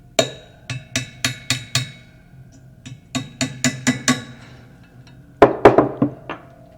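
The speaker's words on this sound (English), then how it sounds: "you may need to use a hammer and a brass punch to do that last little bit of bending" A hammer strikes a brass punch to bend metal stock, sharp ringing taps coming in quick bursts of four or five with short pauses between groups, close and clear.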